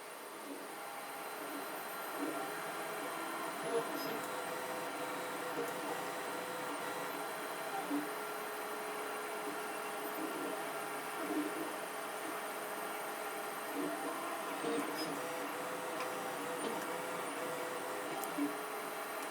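A 3D printer hums steadily at low volume, with faint motor whirs and soft periodic ticks repeating throughout, no voices present.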